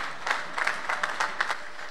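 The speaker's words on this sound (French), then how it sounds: "Est-ce qu'on peut applaudir cette parole du Seigneur?" A church congregation claps briefly, a soft, scattered patter of hands from a modest crowd lasting just a couple of seconds.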